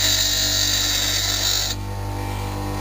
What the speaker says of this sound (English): I hold the tool once the grinder's at full speed and introduce it into the grinder and just rock it backwards and forwards